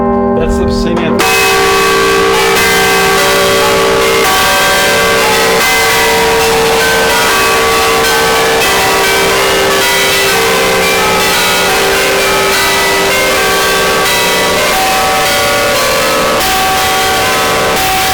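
St. Anthony church bell ringing loudly in the bell tower of the Basilica of the Sacred Heart, its sustained metallic tone swelling and overlapping with other tolling bells throughout, close and dominant.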